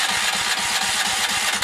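Predator generator engine running steadily, a close, loud, rapid rhythmic chugging with an even pulse throughout.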